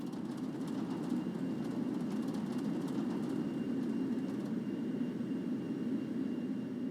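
Steady jet engine roar of an Airbus A320 climbing out after takeoff from Heringsdorf airport in the FlightGear flight simulator, a continuous broad rumble holding at an even, moderately loud level with no talk.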